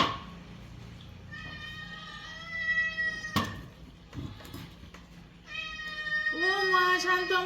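A cat meows close by in several drawn-out, tonal cries, one early and a louder pair near the end, with quieter household sounds and a few knocks between them.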